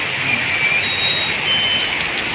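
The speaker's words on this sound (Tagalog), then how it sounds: "Lakas ng ulan, bigla lang ito mga idol, bigla lang." A steady hiss of heavy rain fills everything, even and unbroken, with faint high tones drifting over it.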